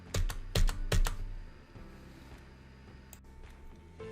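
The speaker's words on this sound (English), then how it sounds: "press the Enter key on your keyboard 3 times" A computer keyboard's Enter key is pressed three times in quick succession, close and crisp, followed by quiet room tone.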